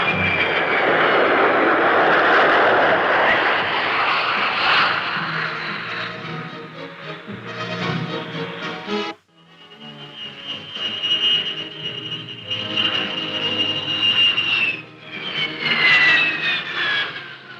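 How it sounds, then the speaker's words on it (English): F-100 jet fighters land at an air base in Iran in blowing dust, loud roaring and whining jet engine noise that swells, cuts out briefly and returns with rising high-pitched turbine whine, no voices. "The first combat elements to arrive in Iran were the F-100s, which landed at Vadati with routine precision"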